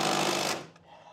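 Impact wrench working on the Allen-head axle bolts of a 997 Porsche 911 Turbo, a loud, harsh burst of hammering that cuts off after about half a second, leaving a faint ringing tail.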